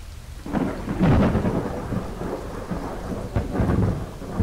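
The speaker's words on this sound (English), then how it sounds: "Oh, and thundering." A thunderstorm in a fantasy video game sends deep rolling thunder rumbling loudly over steady rain, with a heavy swell near the start and another surge toward the end.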